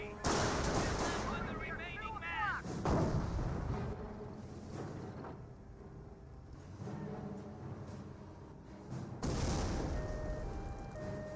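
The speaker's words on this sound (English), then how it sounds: "More mortar hits there." Mortar shells landing in Company of Heroes, with a heavy impact at the start and another near the end and a rumbling battlefield din in between, under continuous commentary.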